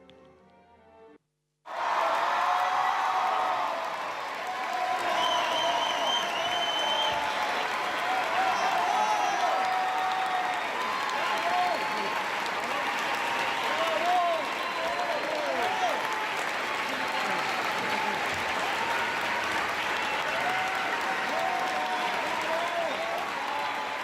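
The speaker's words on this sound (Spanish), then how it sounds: "Esta es la ovación a Marianela Núñez." A theatre audience gives ballet dancer Marianela Núñez a long, loud ovation of dense, sustained applause with crowd cheers mixed in, starting abruptly after a brief quiet moment and continuing unbroken throughout.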